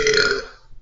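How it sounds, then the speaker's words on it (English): A single loud, close burp, rough and voiced at first, then thinning out and fading within a second, with nothing else heard. "a burp"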